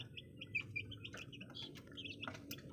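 Chicks peeping in short, high chirps beside a mother hen that is raising chicks not her own, scattered and fairly faint over a low background rumble.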